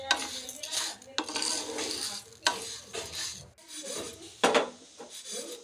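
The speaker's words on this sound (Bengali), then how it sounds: "এভাবে শুকনো খোলায় ভেজে নিতে হবে" Lentils dry-roasted in a pan for making besan, with a spoon scraping and rattling the grains against the metal in repeated bursts of stirring and short pauses, close and clear with no talk.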